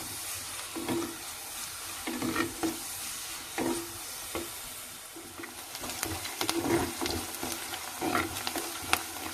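Spinach frying in a clay pot with a steady, close sizzle, broken by repeated scraping stirs that come in irregular bursts.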